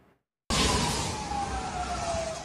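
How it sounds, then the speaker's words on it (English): A loud wailing siren in Gaza after a hospital blast cuts in abruptly after a brief quiet moment and holds steady, its tone slowly sliding downward, with traffic noise beneath. "Sirens blaring in the aftermath of the blast."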